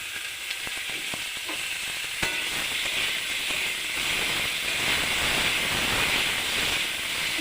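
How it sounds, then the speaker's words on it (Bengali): Cut eggplant hits browned potatoes in a hot oiled pan, a few sharp ticks at first, then a continuous sizzling hiss that swells slightly and holds steady. "এবার আমি কেটে রাখা বেগুনটা দিয়ে দিলাম।"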